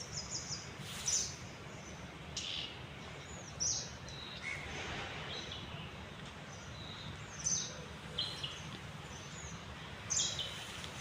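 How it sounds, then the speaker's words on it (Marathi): Sparrows chirp sparsely in a very quiet morning setting, short high calls popping up every few seconds, faint and somewhat distant over a low steady background. "फक्त चिमण्यांचा आवाज खूप छान आहे."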